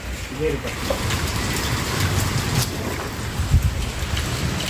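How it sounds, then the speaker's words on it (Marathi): Steady rain hiss fills the background, with a low thump or rumble near the end and no voices. "पावसाची रिमझिम काही बंद व्हायचं नाव घेत नाही आहे"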